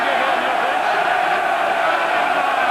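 Stadium crowd at an England versus South Africa rugby match in London, 1997, giving a steady, dense roar of cheering and noise that fills the whole stretch without letting up.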